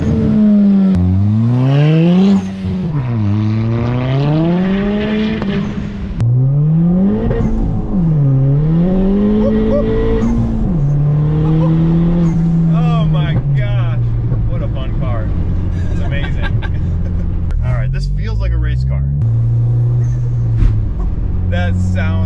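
A loud turbocharged Ford Fiesta ST engine, about 320 horsepower with a big turbo, revs up and down repeatedly, rising and falling in pitch as it accelerates, close and continuous, with occasional voices.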